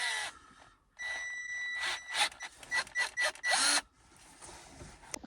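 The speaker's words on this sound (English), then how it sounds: "I bought a drill a couple weeks ago, exactly for the purpose of fixing my van" A power drill tightening fasteners while fixing a van, heard as a run of short, close whirring bursts over a few seconds, with no talking.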